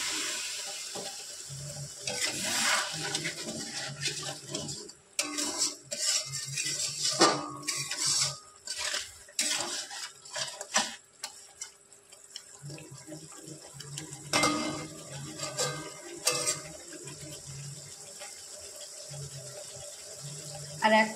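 Water is poured into a pan of spice masala for a Bengali jackfruit and prawn curry, with metal pots and utensils clattering and a spoon scraping as the mixture sizzles, loud and busy throughout.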